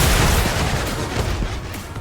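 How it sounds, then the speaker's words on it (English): Brute mech missile explosion in the Fortnite video game, a loud, dense burst of blasts and booming rumble that fills the whole two seconds with no talking. "We're gonna see how wide the explosion is right now."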